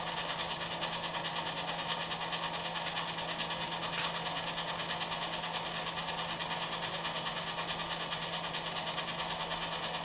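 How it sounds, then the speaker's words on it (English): A Lexus Toyota hybrid transmission motor spins on its inverter during a first bench test, giving a faint steady electrical whine and hum that holds constant for the whole stretch. "Tiny bit of inverter whine I can hear from it."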